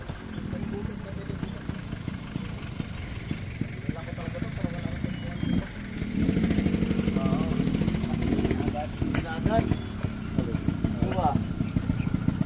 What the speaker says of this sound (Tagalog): Yan ang mga motor nila o.